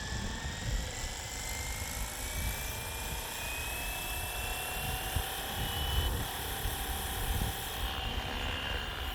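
An RC Flywing Bell 206 helicopter spins up for takeoff, its rotor a steady, close whine that rises in pitch with a buzzing motor underneath and continues throughout.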